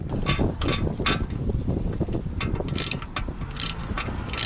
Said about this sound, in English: you're going to need a 5mm socket. Place it right on here, and then you can go ahead and remove it.